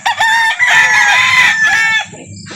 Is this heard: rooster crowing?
yes